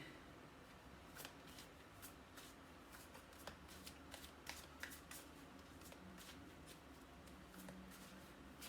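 Tarot cards being shuffled close by, a steady run of soft riffling flicks and snaps with no talking.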